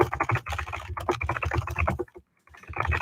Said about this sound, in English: You're now going to hear my thunderous typing